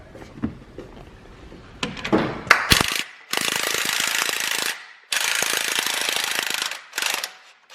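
Ratchet wrench loosening differential bolts on a Jeep Grand Cherokee Trackhawk during a suspension kit install, heard as several long, loud, fast clicking bursts with brief pauses between, close by with no talk.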